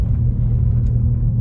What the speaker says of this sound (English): these roads are nasty to drive on right now, or these side roads. Because it's slushy, I'm having a hard time